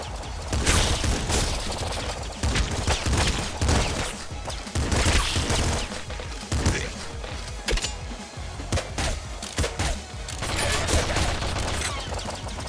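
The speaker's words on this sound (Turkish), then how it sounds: "Shotgun gördüğünüz gibi dağılıyor etrafa, Slugger gibi değil." Rapid shotgun blasts spraying pellets in the Nuclear Throne video game, dense overlapping bursts of gunfire and impacts, loud and nearly continuous with brief lulls.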